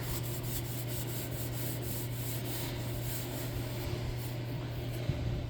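Steel wool scrubs an old 1970s lawn mower in a garage in steady, rhythmic rubbing strokes, close and continuous over a low hum.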